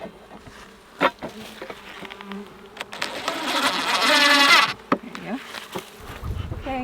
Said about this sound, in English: They're starting to be all around us now, the bees.